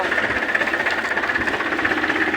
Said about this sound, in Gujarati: ટ્રેક્ટર ચલાવે છે